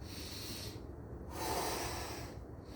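A forceful breath pushed out through the nose and mouth while resistance-band pull-aparts are performed, two sharp hissing exhales separated by a brief pause, close and fairly loud with no talking.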